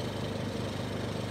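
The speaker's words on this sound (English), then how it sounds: "And so I got it started and idling" Boat generator engine idling with the idle screw turned up, a steady low hum with a faint regular pulse, close and continuous.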